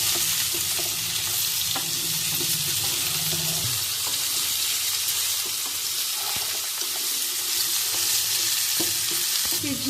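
Chopped vegetables frying in oil for a fish and moong dal curry make a steady, dense hiss, with scattered scrapes and knocks of stirring throughout and a low watery rumble early on. No voices.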